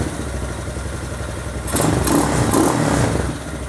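A Hawk 250 motorcycle engine idles close by with a steady rumble, then a twist of the throttle lifts it into a louder, rougher rev that holds before easing back.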